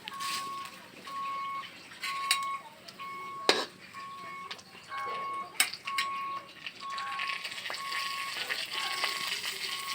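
Black cumin seeds sizzle in hot oil in a pan, a steady frying hiss throughout with a few sharp clinks, while a repeating beep sounds in the background.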